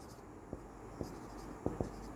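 Chalk or marker taps and short strokes on a board during a physics lesson, a handful of faint, sparse clicks spaced irregularly over quiet room tone.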